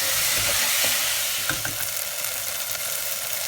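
Chopped onion and tomatoes fry in a pan while a utensil stirs them, giving a bright continuous sizzle with a few scraping clicks, close by and with no talking.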